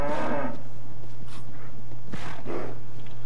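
A cow in the video game Cryostasis, aboard a ship, gives several drawn-out moos over a steady low hum, with shorter lowing calls following after a pause.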